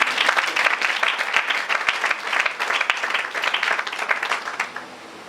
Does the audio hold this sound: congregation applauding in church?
yes